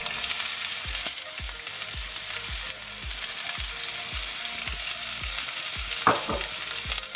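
Sliced onions frying in oil in a pan for an okra bhaji, giving a loud, constant sizzle close up, with a steady train of rhythmic thuds and a brief scrape near the end.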